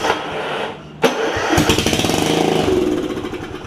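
After a sharp click, a 9hp Kawasaki engine swapped into a John Deere RX75 riding mower cranks and fires with no muffler fitted, settling into a loud, close, rapid staccato chugging.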